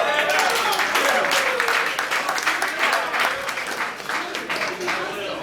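An audience claps for itself in a lively round of applause, dense and close, with crowd voices mixed in, gradually thinning toward the end.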